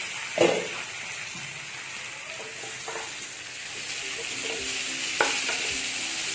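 Tapioca thoran cooks in a covered pan over a high flame, giving a steady soft sizzle and hiss throughout, with a few faint clinks and knocks from the pan nearby.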